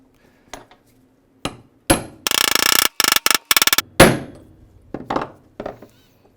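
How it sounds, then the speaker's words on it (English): Metal tapping as a socket driver seats a new final drive seal on a BMW R90/6 motorcycle, with sharp close knocks, a fast burst of repeated blows, then a few scattered taps. "to put the new seal in, you'll need to come up with a socket or some sort of driver"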